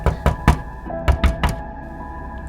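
Knocking on a door in two bursts, three sharp raps, a pause, then three or four more, close and loud, with no voices.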